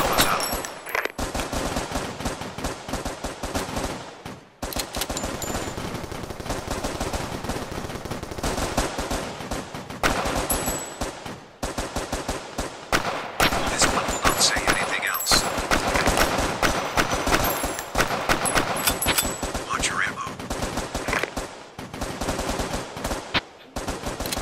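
Rapid, nearly continuous bursts of gunfire in the VR shooter game Crisis VRigade, loud and close, with brief pauses between volleys.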